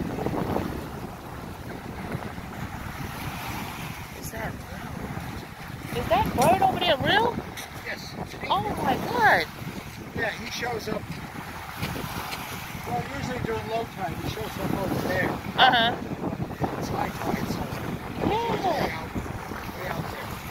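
Water washes steadily along a beach at night, a soft broadband rush mixed with wind buffeting the microphone, while people talk over it throughout.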